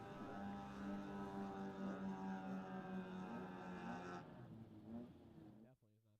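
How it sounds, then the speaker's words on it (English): Mazda Miata drift car finishing its run at a drift exhibition, a loud sustained engine roar with harmonic whine held at high revs, then cutting off sharply near the end with crowd noise behind. "we got the Miata laying down a heater for the end of the run"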